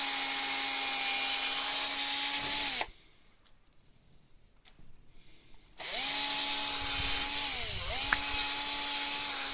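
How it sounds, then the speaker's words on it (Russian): A power drill bores into a knife blank, whining steadily at a high pitch for a few seconds, stopping briefly into near silence, then starting up again with the motor dipping in speed as it bites. "Это сверливаем это дела все."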